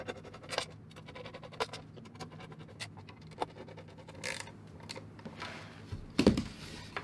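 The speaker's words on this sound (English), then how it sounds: "drop the screws in. I'm going to fast forward while I wind these in." Screws being wound by hand into the machine-threaded pedestal base of a Samsung Q95T 4K TV, heard as a steady run of small close ticks and scratches with a louder clatter near the end.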